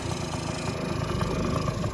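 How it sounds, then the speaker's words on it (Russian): A small Motobi 50 scooter engine runs steadily on a workbench, a dense buzzing idle holding even and fairly close throughout without speech. "По крайней мере, мотор работает идеально."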